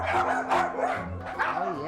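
Small dogs aboard the Queen Mary 2 cruise ship yapping and barking in quick, close bursts, with short whimpering yips between, over a background of voices.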